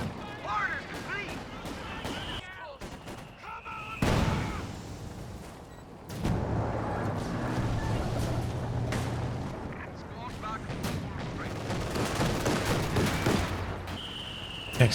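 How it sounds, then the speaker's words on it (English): Mortar half-track firing a phosphorus barrage in Company of Heroes 2 during a 2v2 match, a stream of booming shell impacts and crackling bursts mixed with other battle noise, with a voice talking over the action. "he's gone for a mortar half-track and he's using the phosphorus barrage with it"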